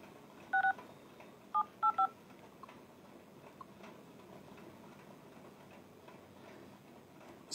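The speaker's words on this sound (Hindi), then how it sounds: "सतीश कटारिया जी ने फ़ोन नहीं उठाया किस कारण से फ़ोन नहीं उठाया" Telephone keypad tones beep as a number is dialed during a call, with a short burst of touch-tone beeps near the start followed by quiet line hiss and faint ticks.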